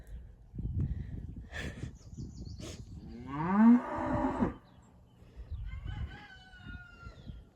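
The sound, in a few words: cow mooing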